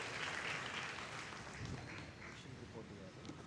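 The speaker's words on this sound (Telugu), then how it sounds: "మనం చప్పట్లు కొడుతూ దేవుని మహింపరుస్తూ యంగ్ పాస్టర్ని ఆహ్వానిస్తాం" Church congregation at a Telugu Baptist Sunday service clapping to welcome the young pastor, a faint, diffuse patter of many hands in a large room, with voices mixed in.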